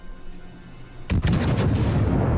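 A battleship fires a gunfire salvo in the naval game World of Warships, with a sudden loud blast of rapid stacked reports after a quiet hum, followed by a sustained rumbling roar.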